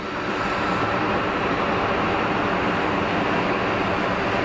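A Turkish Airlines Airbus A321neo taxiing at Geneva Airport, heard as a loud, steady broadband jet engine roar that holds constant throughout with no voices.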